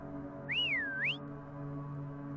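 A single human whistle rises, dips and rises again in a smooth swooping call, heard alone over a faint low hum.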